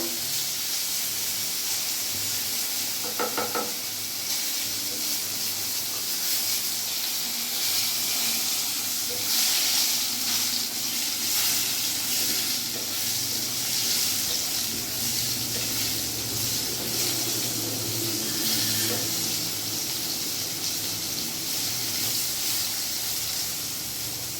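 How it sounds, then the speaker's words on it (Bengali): Eggplant pieces fry in a pan for a labra vegetable curry, giving a dense, steady hiss of sizzling oil that runs unbroken and fairly loud from start to finish, with no voices. "বেগুনগুলো আমি একটু লাল লাল করে ভেজে তুলবো"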